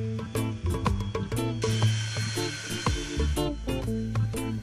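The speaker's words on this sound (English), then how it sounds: "I'm finishing the cleaning process by sanding both slab faces to eliminate all router marks" A harsh, abrasive power-tool whir grinding steadily against a wood slab face, removing router marks, with rhythmic surges and scraping pulses as the sander moves across the surface.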